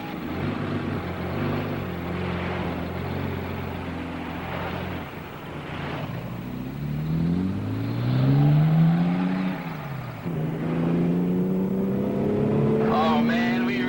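A car speeds along in the Hardy Boys and Nancy Drew video game, its engine roaring and revving with rising and falling pitch, loud and continuous, with a voice briefly heard over it.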